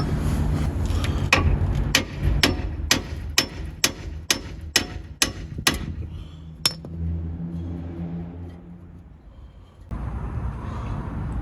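A hammer strikes the nut on a Mini drive shaft about a dozen times in a steady rhythm, sharp metallic clinks up close, followed by quieter shop noise.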